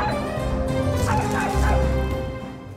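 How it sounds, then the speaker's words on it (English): Several dogs bark and yip in quick bursts over a low droning background, fairly close and loud. "The sound of dogs barking while we see fur on the man's clothes."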